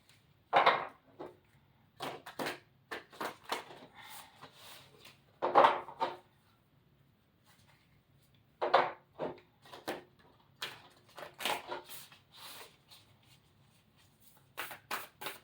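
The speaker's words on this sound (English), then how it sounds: "I'm gonna give it a good shuffle." Quiet, quick riffling bursts of tarot or oracle cards being shuffled, several rounds separated by short pauses, with no talking.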